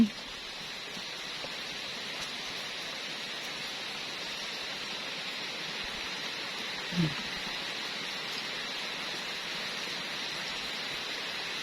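A steady, even hiss of rain falls throughout, with one faint brief sound partway through.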